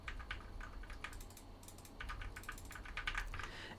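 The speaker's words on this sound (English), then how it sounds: "Let's do some mouse clicks so you can imagine how that would sound." Fast typing on a computer keyboard picked up by a FiFine K690 budget USB microphone, a dense run of crisp key clicks in bursts with a brief pause midway, fairly quiet and close.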